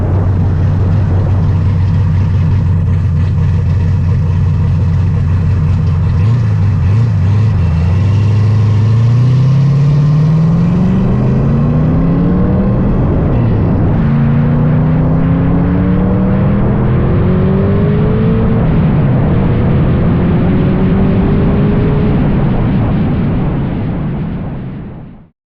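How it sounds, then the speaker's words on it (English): A car engine runs loud and close, idling with a deep steady rumble before revving up in several rising sweeps, each climbing in pitch and dropping back, then settling, with no talk. "as you can see, car runs perfectly fine, no issues"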